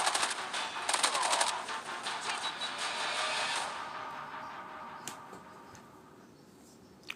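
AS VAL rifle fire in a video game comes in quick clattering bursts early on, then thins to scattered shots and fades to quiet, fairly faint overall.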